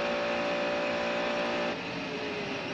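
A race car at the Mulsanne braking zone of the Le Mans circuit, a Mercedes-Benz CLR, gives a loud, sustained high-pitched engine howl. The pitch drops abruptly as it slows, with no voices.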